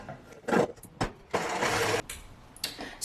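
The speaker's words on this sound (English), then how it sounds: "So while the egg whites are whipping," Electric mixer whipping egg whites with a pinch of salt for Italian meringue buttercream, a loud whirring motor in uneven bursts with brief pauses between.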